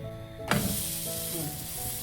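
A rice flour roti hits a hot griddle and bursts into a loud, steady sizzle that holds close and even to the end, with faint crackles over the hiss.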